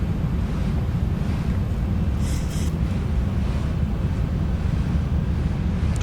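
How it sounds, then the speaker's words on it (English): Strong 34-knot gusting wind in the X-Plane 11 flight simulator roars steadily as a loud, broad rushing noise with deep rumble, heard alone without talk. "So 34 knot winds gusting up."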